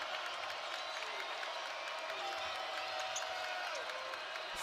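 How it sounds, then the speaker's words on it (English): College basketball crowd at a Nebraska game, a steady, fairly distant roar of noise and cheering with scattered whoops, under a commentator talking. "Crowd getting loud."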